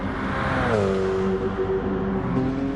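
Engine note of a Porsche 919 Hybrid race car in a racing video game, a steady whining drone whose pitch drops as it passes and then holds level, heard alone without talk.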